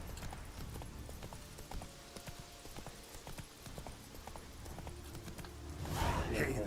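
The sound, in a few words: horse Roach's hooves clip-clopping in video game Witcher 3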